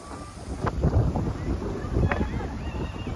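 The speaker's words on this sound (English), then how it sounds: "So it's a windy this time and the weather really is not really good." Wind gusting across an outdoor school playground on a gray, stormy day, a steady rumbling buffet against the microphone with a few louder bumps, while voices talk nearby.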